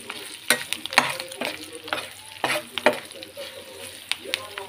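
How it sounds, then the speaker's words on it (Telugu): A tempering of spices with turmeric and salt crackles in a pan for bitter gourd fry while a spoon stirs it, giving repeated rhythmic scrapes and knocks over a light sizzle. "పోపు మొత్తం ఇట్లా కలుపుకున్నాం."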